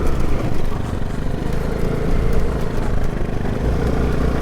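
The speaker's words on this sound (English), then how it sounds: "Adventure riding with a Zontes" Zontes X310 and Sym Symphony ST200 motorcycles riding together on a winter mountain trip, a steady droning engine roar held close and loud throughout with wind noise over it.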